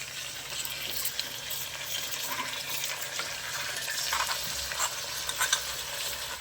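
Fried yam stir-fried in a pan with ground green chili and cumin paste, a continuous sizzle and scraping that swells and eases as the mixture is stirred, with no voices over it.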